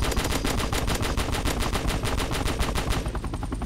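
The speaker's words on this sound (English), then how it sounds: "Oh my goodness, I have a machine gun that I could use." Machine gun in a Roblox biplane game firing a loud, rapid, continuous burst of evenly spaced shots for several seconds, dense and close with no talking.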